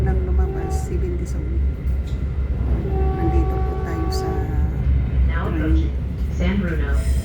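Interior rumble of a passenger train riding along, a steady low roar with squeaks and tonal whines rising over it.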